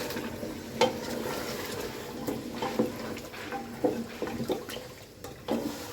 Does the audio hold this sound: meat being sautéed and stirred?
yes